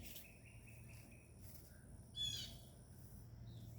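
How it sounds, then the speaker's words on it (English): Birds chirp in short, bright calls outdoors, faint and scattered over a quiet background, with one louder burst of song partway through. "You can hear the birds around here, right? They're beautiful."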